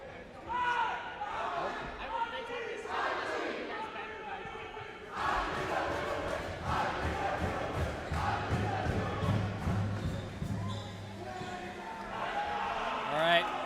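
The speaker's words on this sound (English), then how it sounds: "Crowd is hyped." Crowd noise at a high school boys basketball game just before the tip-off, a loud, steady roar of many voices with a few basketball bounces and thumps mixed in and occasional swells.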